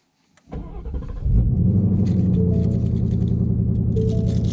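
A Ford Mustang Mach 1 with resonator delete and X-pipe cranks on a cold start and catches, then settles into a loud, steady idle rumble close by.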